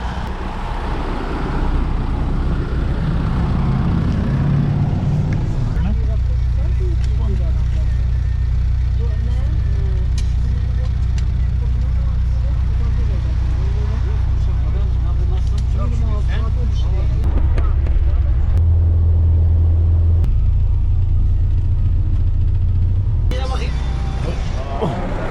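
An old little bus carrying a group toward Kyrenia in Northern Cyprus, its steady low engine drone and road rumble running throughout at close range, shifting pitch near the end, with people talking over it.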